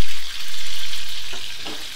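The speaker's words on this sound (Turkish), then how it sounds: "Şöyle yaklaşık 1 dakika kadar sarımsakları kavuruyoruz." Chopped garlic sautéing in a pan, a loud, dense sizzle that runs continuously with a brief dip near the start and a few stirring scrapes late on.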